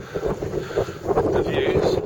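Gusty wind buffets the microphone on the rocky summit of Helm Crag, a steady roar with rising and falling surges throughout, loud and close.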